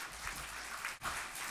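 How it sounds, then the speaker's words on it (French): Audience applause at a medical conference on vertigo, faint and distant, a soft steady patter of clapping with a brief dip partway through. "on peut l'applaudir."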